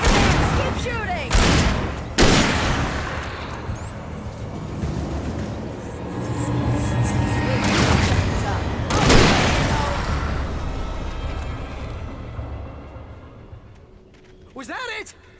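Gunfire in the Alan Wake video game at the Bright Falls power plant: repeated loud shots and booming blasts in bursts across the clip, with game voices talking over the action.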